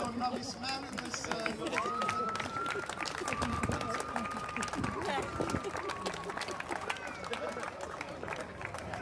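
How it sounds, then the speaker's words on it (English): An audience at a Yorkshire strongman competition claps and applauds for the novice men's winner, a continuous patter of hands mixed with crowd murmur, while a drawn-out whistle sounds across the middle. "Round of applause, please, for your novice man in this."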